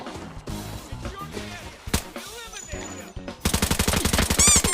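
Automatic rifle bursts in the shooter game Arena Breakout, a loud rapid string of shots closing the stretch after scattered earlier single reports and game effects, with a voice talking beneath the action.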